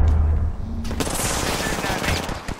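Rapid automatic gunfire in the Apex Legends video game, a loud burst of shots crackling alongside game effects over about three seconds with no clear talk.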